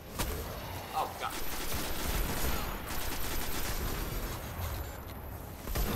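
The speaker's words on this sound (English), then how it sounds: "Fusion rifle ain't that good" Fusion rifle fire in the video game Destiny, heard as bursts of crackling, explosive shots, loud and close, with mixed game noise and no clear talk.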